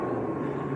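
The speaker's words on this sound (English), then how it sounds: "Prop time. Aer Lingus, ATR." Aer Lingus ATR turboprop airliner at an airport, a steady broadband propeller and engine drone held close and loud through the whole short moment with no talk.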